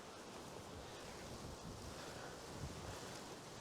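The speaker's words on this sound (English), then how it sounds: "As you can tell, it's quite windy." Steady wind at Pagham Harbour nature reserve buffets the microphone with a constant roaring rush, loud and unbroken throughout.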